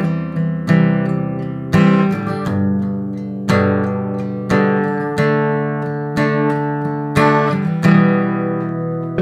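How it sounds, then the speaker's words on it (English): Acoustic guitar chords strummed slowly, each stroke ringing out with clearly varied force, some hit hard and loud, others tapped lightly, about a dozen strums in an uneven rhythm with no voice. "doing the first one very hard, then the second one just lightly tapping it, and the third as well"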